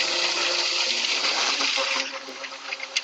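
Milkshake poured over coffee jelly in a boozy grown-up shake, a steady, loud liquid gush that fills the clip before easing slightly toward the end.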